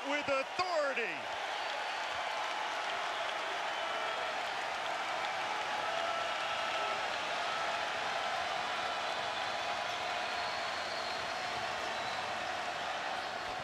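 A Georgia Tech home crowd roars through a college men's basketball game against Notre Dame, a loud, sustained wash of cheering and applause that swells briefly at the start and then holds steady.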